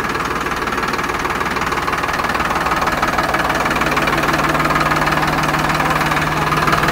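Modified Farmtrac 60 tractor engine, converted to four speeds, running steadily in third gear with a loud, even diesel knock and constant drone throughout, no talk over it.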